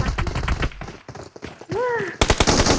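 Rapid gunfire from a match in a competitive game, with several dense bursts of machine-gun shots separated by short gaps and a brief vocal sound in between.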